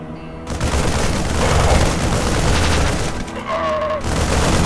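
Rapid gunfire and booming battle effects from the StarCraft 2 video game, loud and dense for several seconds with a brief electronic tone partway through.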